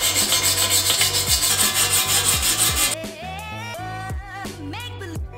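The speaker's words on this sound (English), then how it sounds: "I have a bunch of wire wheels that I'm gonna put onto this drill" A drill spins a wire wheel against a BMW E36 M3 subframe to remove rust, making rapid rhythmic rasping and scraping, then a motor whine that rises and falls in pitch.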